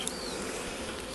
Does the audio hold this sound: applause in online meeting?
no